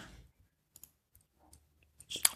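A few faint, sparse mouse clicks on a Mac computer, single ticks scattered across near silence, followed by a brief louder rustle at the end.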